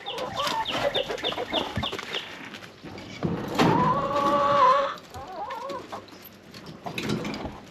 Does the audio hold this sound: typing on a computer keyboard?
no